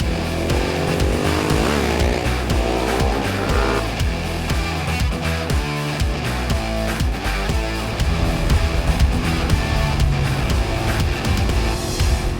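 A 2016 Ducati Hypermotard 939 SP is ridden hard, its engine roaring loud and close with rapidly rising and falling revs and gear changes for about twelve seconds, with no speech.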